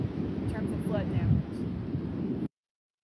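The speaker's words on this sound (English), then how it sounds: "Sorry about that wind" Outdoors, wind buffets a microphone with a steady low rumble and rushing roar. It holds for about two and a half seconds and then cuts off abruptly, with a faint voice partly buried beneath it.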